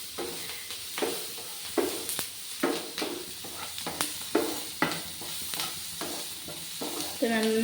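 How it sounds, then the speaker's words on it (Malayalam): Onions, shallots and curry leaves sauté in a pan with a low, continuous sizzle, broken by regular scraping stirs roughly every second, close and fairly quiet. "നമ്മുടെ സവോളയും ഈ കുഞ്ഞുള്ളിയും കൂടെ കറിവേപ്പിലയും ഒക്കെ നന്നായിട്ട് വഴണ്ട് വന്നിട്ടുണ്ട്"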